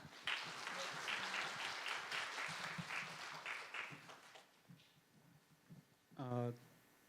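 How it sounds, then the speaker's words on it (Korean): A lecture audience at a university gives warm applause to welcome a guest speaker, a dense burst of clapping that fades out after a few seconds, followed by a brief spoken voice. "뜨거운 박수로 환영 부탁드립니다."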